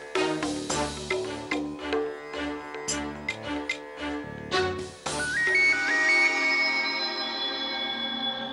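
A phone ringtone plays during a Hindi TV drama scene, a melodic electronic tune with rising tones that rings over background music, loud and close, with no talking.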